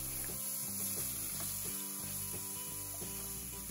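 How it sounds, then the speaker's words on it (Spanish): Garlic and epazote sizzle in very hot olive oil in a frying pan, a steady soft crackling hiss that runs throughout beneath gentle background music. "la sartén como viste está muy caliente y colocamos el ajo y el epazote"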